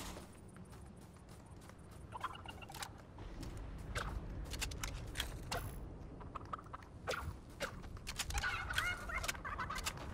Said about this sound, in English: The chicken's so scared that it's jumping very high.